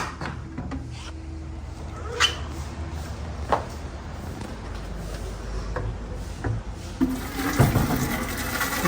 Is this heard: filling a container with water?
yes